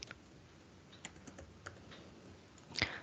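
Quiet keystrokes on a computer keyboard, a few sparse clicks spread over a few seconds with a short flurry near the end, faint and without speech.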